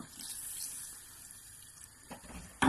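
Milk trickling steadily into a saucepan while making a cheese sauce, a soft continuous liquid pour heard close with no talking, ending in a brief louder clatter.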